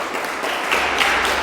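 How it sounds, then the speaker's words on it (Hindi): An audience at a Vivekananda Jayanti youth day and Gayatri Deep Yagna event in Talegaon, Pune breaks into a short burst of loud applause, a dense wash of clapping with a low hum underneath. "जोरदार तालियों की गड़गड़ाहट में कमी नहीं होनी चाहिए"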